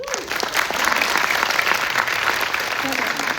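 An audience at a Hong Kong HiFi EP signing event claps steadily for a few seconds, a dense close wash of applause, with a host's voice briefly heard at the start.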